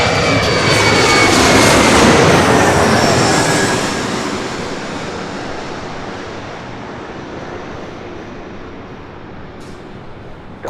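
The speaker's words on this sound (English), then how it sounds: "we do have an E-Jet flying over our head" An Embraer E-Jet airliner passes overhead at LAX with a loud, broad jet roar that peaks early, then slowly fades as it moves away, heard alone.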